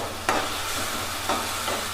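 Mushroom curry is stirred in a pan, producing a steady, close sizzling hiss with two brief scraping strokes about a second apart.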